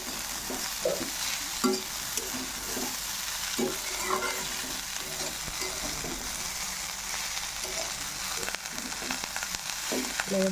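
Nuts frying in a pan with turmeric and salt, an even continuous sizzle with soft stirring scrapes and occasional light knocks throughout, no voices.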